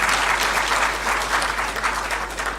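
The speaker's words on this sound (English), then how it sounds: "A round of applause," A crowd at an official ceremony claps steadily and densely throughout, a sustained round of applause with no voices on top.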